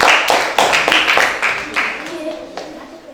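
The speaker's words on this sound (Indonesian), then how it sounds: "tepuk tangan buat kelompok 1" Classroom applause for a student group at a primary school, a burst of many hands clapping at close range with sharp overlapping claps over roughly three seconds before tapering off.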